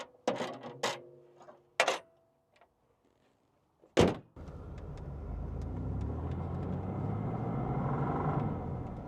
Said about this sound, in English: All right, we are doing the driving impressions in our 1992 GMC Typhoon.